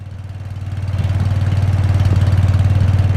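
A vehicle engine in a Roblox driving game idles with a steady low rumbling pulse that swells slightly at the start, then holds constant and close with no talking.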